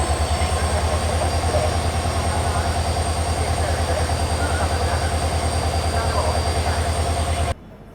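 Bilaspur–Bhagat Ki Kothi Express hauled by a diesel locomotive, rolling out from Sawai Madhopur station and heard from inside a First AC coach: a steady, loud, low rhythmic rumble that cuts off sharply near the end.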